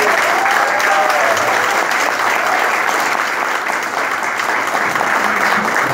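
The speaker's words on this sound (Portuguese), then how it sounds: "que a gente possa dar uma salva de palmas." Audience applause at a Brazilian municipal gathering, a dense, steady clapping that holds at full strength for the whole stretch with no pauses.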